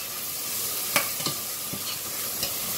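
Ginger garlic paste frying on a slow flame in a pan for okra pulusu, a loud continuous sizzle with several scraping stirs of a spoon breaking through.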